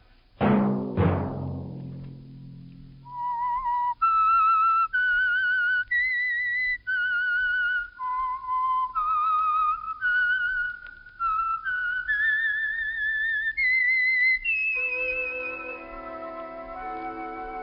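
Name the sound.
whistling tune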